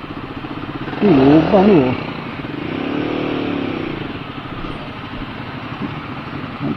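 A Guerrilla 450 motorcycle sits idling at a traffic light in Kuala Lumpur, a steady low engine rumble close up under wind noise, with a brief rev; someone speaks over it.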